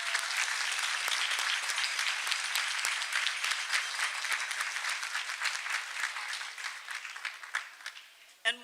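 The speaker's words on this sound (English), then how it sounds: "please join me in applauding them for all of their time and effort" Sustained audience applause fills a spring commencement ceremony, a dense steady wash of many hands clapping for several seconds before thinning out and fading near the end.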